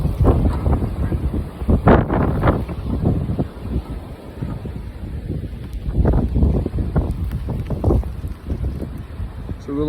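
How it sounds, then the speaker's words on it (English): Wind gusting during a snowstorm outdoors, a steady roar of wind buffeting the microphone with heavier bursts throughout and faint talking mixed in. "Here's a wind gust."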